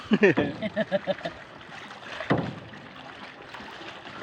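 A person speaks briefly, then a paddle splashes into the water close by, with light wind noise around it.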